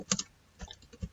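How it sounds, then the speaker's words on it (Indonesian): Someone types on a computer keyboard while entering network configuration commands, producing a few quiet, close key clicks in small clusters over about a second. "Selanjutnya kita ketik enter."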